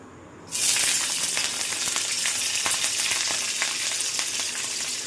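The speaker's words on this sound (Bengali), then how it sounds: "তেলটা গরম হয়ে গেছে, এবার দিয়ে দেবো লঙ্কা" Chilies sizzle loudly in hot refined oil, kicking in abruptly after a brief quiet moment and crackling steadily from then on.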